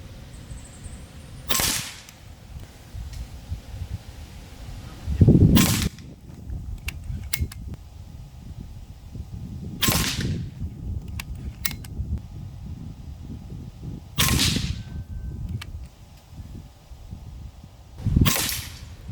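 A Benjamin Marauder Gen 3 PCP air rifle fires 18.13 grain pellets at a bench, five sharp, loud cracks spaced a few seconds apart with faint mechanical clicks of cocking and loading between them.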